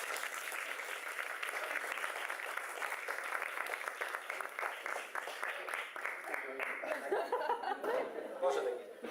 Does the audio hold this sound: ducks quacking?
no